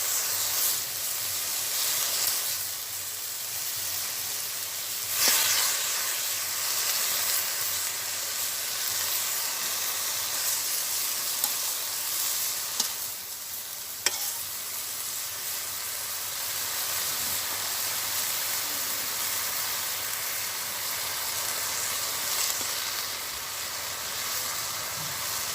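Water lily (shapla) stems fry in oil in a pan during village cooking, giving a steady, dense sizzle and hiss that runs throughout, with a few brief louder crackles and no talk.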